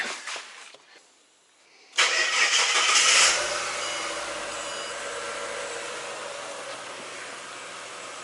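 A Ford BA Falcon's engine cranks briefly, catches with a loud flare of revs, then settles into a steady idle, close by.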